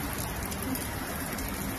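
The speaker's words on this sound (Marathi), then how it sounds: "चांगलीच ढगफुटी चालू आहे." Heavy cloudburst rain pours down in a dense, unbroken hiss, steady and loud throughout, with no voices over it.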